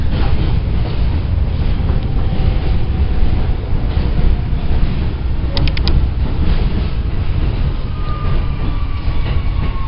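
A Manhattan-bound W local subway train in New York rolls along from Astoria with a loud, continuous rumble, brief wheel squeals and a short metallic ringing partway through.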